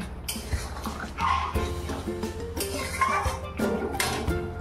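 Jackfruit curry being stirred in a cooking pot: a spoon scrapes and clinks against the metal in irregular strokes, close and fairly loud, over a steady low hum.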